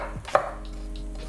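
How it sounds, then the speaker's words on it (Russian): Coarsely chopped garlic drops into a frying pan on top of onion, with a couple of sharp, close thuds and clatters over a quiet, steady background and no talk. "весьма грубо нарезанный чеснок"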